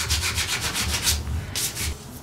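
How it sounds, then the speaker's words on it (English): Rhythmic hand sanding on a wooden chair during restoration, quick back-and-forth rasping strokes repeated in a steady pattern, close and fairly loud, with a short pause before the last strokes. "now he's having to do a little hand sanding"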